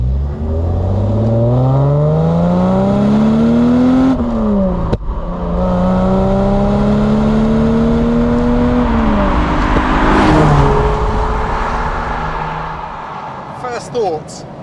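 A Daimler Double Six by Lister with a V12 engine accelerating hard through its gears, revs climbing and dropping at each shift, loud and close throughout, with a faint brief voice near the end.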